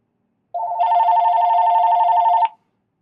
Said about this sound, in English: The phone is a-ringing.